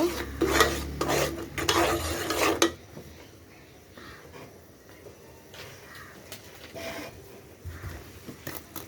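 Goat meat curry being stirred in a pot, a burst of close scraping and clanking strokes for a few seconds, then a quieter low sizzle with faint occasional scrapes.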